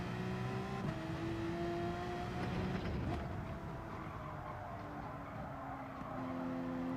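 A race car in Gran Turismo 7 whines steadily through a chicane, engine pitch dipping and climbing with gear changes and lifts, tires faintly scrubbing over curbs, sustained and moderately loud without talk.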